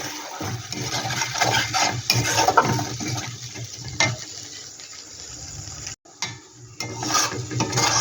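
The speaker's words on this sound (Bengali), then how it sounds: "এটাকে ভালো একটু আমি মিশিয়ে নেব ভালো করে" Sweet corn with tomato sauce, chilli sauce and sugar being stirred in a pan, soft scraping and clattering strokes over a low sizzle, fairly quiet, with a brief pause near the end before stirring resumes.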